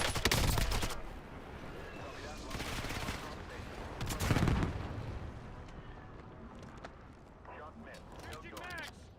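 Warzone-style game battle with a precision airstrike and gunfire: heavy broadband blasts and bursts of shooting around the start and middle, followed by scattered pops and whooshes, with game voice lines over the top.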